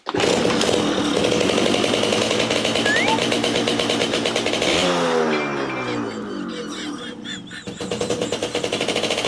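A modified, tuned car engine revs hard on a dynamometer, giving a loud, rasping, buzzing roar with pulsing revs and sweeping pitch, with voices heard over it.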